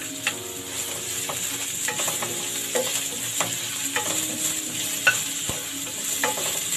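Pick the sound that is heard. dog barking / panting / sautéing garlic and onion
sautéing garlic and onion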